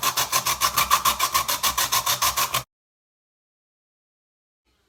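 An alum stone scraped into powder, a fast rhythmic series of about twenty close, gritty rasping strokes that stop abruptly partway, followed by silence.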